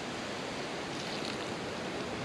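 Wash water from rinsing freshly picked nettles is poured out onto the ground outdoors in bad weather, a brief, steady splashing rush of water with no talking.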